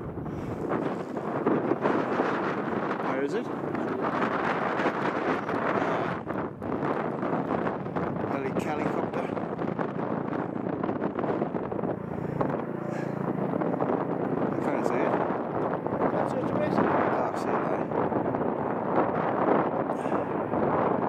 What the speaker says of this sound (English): Hard going in this wind, and it's been raining.